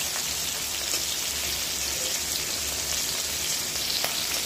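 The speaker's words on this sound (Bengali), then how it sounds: "অল্প হালকা একটু ভাজা দেন বেশি ভাজবো না" Hilsa fish frying lightly in oil in a pan, a continuous dense crackling sizzle like rain on a surface, steady and close with no talk.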